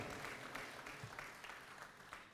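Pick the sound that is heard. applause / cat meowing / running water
applause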